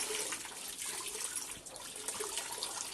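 Dirty clothes are rinsed in a tub of water, giving a faint, continuous splashing and sloshing with small swells throughout.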